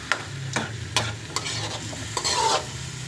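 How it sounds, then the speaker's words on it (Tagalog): Garlic, onion and potatoes sauté in a pan with a constant sizzle, while a spatula scrapes and taps the pan in several distinct strokes, close up with no talking. "Yan, ginigisa na bawang sibuyas. Tapos lalagyan na natin ang patatas."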